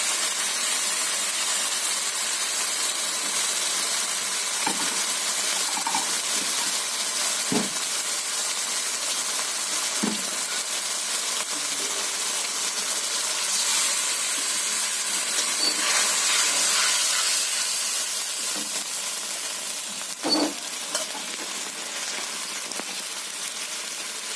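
Coriander, cumin and green chili frying in hot oil give a steady, dense sizzling hiss, punctuated by a few sharp pops and crackles, with no talking.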